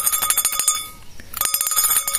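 A bell rings with bright, shimmering metallic strikes, pausing briefly before ringing again, loud and close, with no talking.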